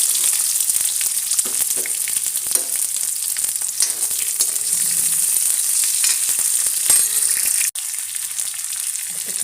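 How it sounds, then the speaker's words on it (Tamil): Loud, continuous sizzling of small onions frying in hot oil after mustard seeds, with crackles and occasional stirring scrapes, briefly cutting out near the end. "கடுகு பொரிஞ்சோனையும் சின்ன வெங்காயம் போட்டுக்கலாம்"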